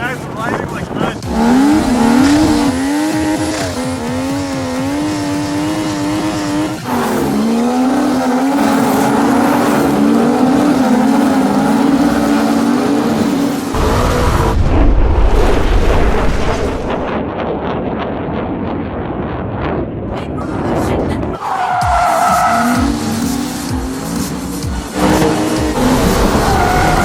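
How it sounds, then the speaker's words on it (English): Cars and motorcycles drifting with the e-brake in a drift battle, loud revving engines rising and falling with screeching tyre skids, close and continuous, with some voices mixed in. "Let them come in hot. Let them hit the e-brake."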